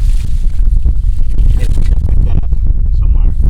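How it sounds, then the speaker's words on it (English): Strong wind on a windy day outdoors beside an abandoned bus, buffeting the microphone with a constant loud low rumble and gusty roar. "sorry for the wind guys, it's a windy day today"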